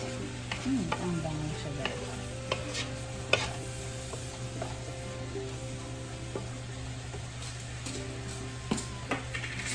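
A spatula scrapes and stirs shrimp with salt in a hot pan for pansit canton, steady sizzling frying with irregular metallic taps and scrapes, close up, with a brief spoken remark.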